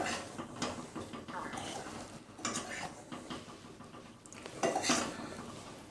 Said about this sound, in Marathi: चला आपण त्याला एका पॅनमध्ये काढून घेऊया प्लेटमध्ये काढून घेऊ